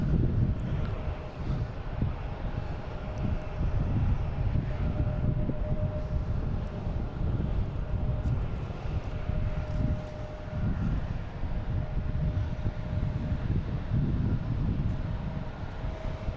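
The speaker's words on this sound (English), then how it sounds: "22 right clear for takeoff. We have a Cape Air heading to Hyannis." Cape Air plane taking off from runway 22 right at Boston Logan International Airport, a steady broad engine roar with a faint sustained tone, continuous and fairly loud, mixed with wind buffeting on the microphone.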